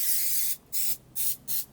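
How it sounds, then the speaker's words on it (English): Cooking spray hisses into a cake pan for a berry cake in three or four short, close bursts, with brief pauses between them. "I'm gonna spray this."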